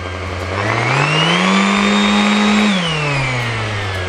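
A corded electric sander running steadily at its minimum speed, a loud, close motor whine with a tonal hum that rises in pitch, holds, then eases back down, with no talking.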